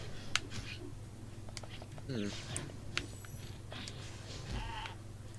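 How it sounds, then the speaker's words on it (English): The sheep-on-stilts boss in Spyro the Dragon bleats a few short, wavering calls over steady game music and effects, with people talking throughout. "It's a sheep on stilts."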